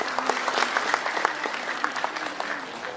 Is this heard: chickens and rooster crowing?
no